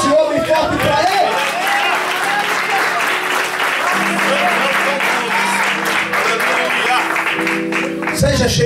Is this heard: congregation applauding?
yes